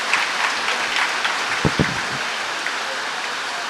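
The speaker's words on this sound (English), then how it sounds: "please give them another round of applause" An audience at a school launch event for the Raymond Mhlaba School of Specialisation applauds with a steady, crackling clapping texture, moderately loud, with a couple of sharper claps near the middle.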